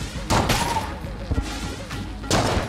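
Enter the Gungeon gunfire: a few loud, punchy shots spaced across a couple of seconds, close and forceful, with game noise between and some talk.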